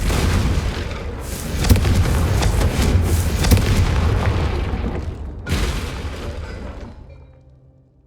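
A Confringo fire spell explosion in the Hogwarts Legacy video game, loud booming blasts with rumbling bursts around two and five seconds, then fading to quiet.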